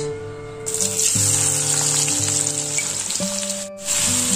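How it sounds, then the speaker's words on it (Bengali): Onions drop into hot oil left from frying puti fish, bursting into a loud, close sizzle that runs steadily alongside a faint tonal hum in the background. "মাছ ভাজা তেলে আমি এখন দিয়ে দিচ্ছি পেঁয়াজ।"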